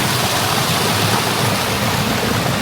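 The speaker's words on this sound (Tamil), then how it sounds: "அந்த அருவி இங்கேருந்து தான் விழுகுது" Aruvikkuzhi waterfall near Thekkady roars as a steady, loud, broadband rush of falling water, continuous and unbroken throughout with no voices.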